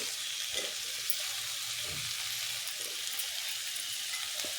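Chopped large tomato with a little chilli powder frying in hot oil for a okra curry, a steady soft sizzle throughout with faint stirring scrapes, no talking.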